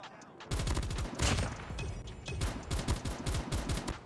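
S36 in Call of Duty Mobile firing in sustained automatic bursts with a few brief pauses, loud and close, and no speech.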